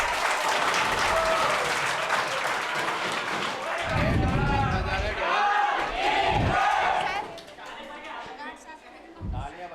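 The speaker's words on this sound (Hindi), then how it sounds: "ताली तो बजाओ करो तुम" An award ceremony audience for a BSTC 2024 test series programme breaks into sustained clapping, with excited shouts and crowd voices mixed in, fading to scattered claps near the end.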